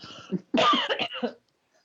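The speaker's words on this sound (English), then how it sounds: "I'm going to cough, so I'm going to cover my microphone" A short run of close, harsh coughs, several in quick succession, then silence.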